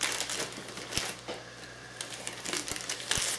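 Plastic package bag being opened with scissors during a horror merchandise unboxing, giving quiet crinkling and crackling with a few sharp snips and rustles over about three seconds, close by with no talking.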